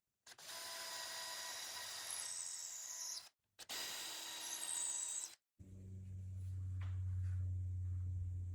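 A 1/4 inch hole drilled about 1.5 inches deep into wood for a Murphy bed frame, two close, loud bursts of whining power drill cutting with a short pause between, followed by a lower motor hum.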